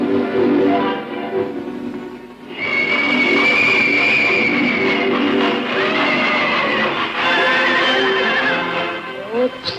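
Magic horses in a classic animated film version of The Humpbacked Horse neigh and whinny loudly in several long, wavering calls, close and repeated over the full stretch.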